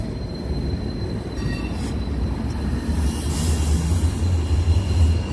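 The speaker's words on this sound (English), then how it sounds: "And I actually think that tram's up here." A tram rolls past in Sheffield with a continuous low rumble of wheels on track, growing slightly louder, with faint metallic squeals above.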